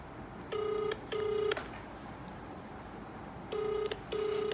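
A phone call rings through the earpiece: two pairs of short electronic ringback tones, each pair a second apart, separated by a quiet pause, heard faintly over light background hiss.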